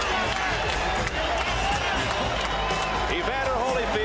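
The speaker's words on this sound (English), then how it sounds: "Gets the greeting from the crowd." A boxing arena crowd roars, cheers and claps to greet heavyweight boxer Evander Holyfield, a dense, sustained wall of noise with a voice talking over it.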